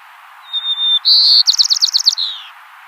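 A single white-crowned sparrow sings nearby: clear whistled notes, then a rapid run of buzzy trilled notes, ending in a falling buzz, with no other sounds.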